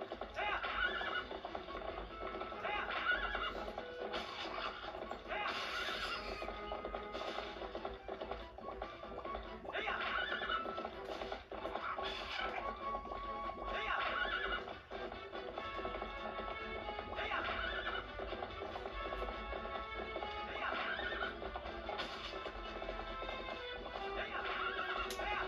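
A horse in a video game trots with steady rhythmic clip-clop hooves and repeated whinnies throughout. The sound is continuous, moderately loud and close, and a voice talks over it at times.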